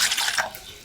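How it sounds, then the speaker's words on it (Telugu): Water poured from a vessel for making rice flour dough for rice rotis, a brief close splashing gush that tails off within a second. "అయితే వాటర్ పెట్టి ఇక వాటర్ పోస్తాను నేను"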